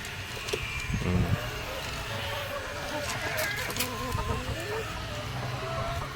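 Farm chickens clucking while begging for food in Bulacan, several birds close by with repeated short clucks and calls over a low background hum. Nobody speaks.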